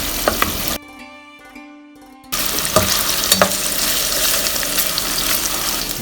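Paneer cubes fry in a hot pan with a continuous loud sizzle and crackle, briefly quieting for a moment before the frying noise returns at full strength.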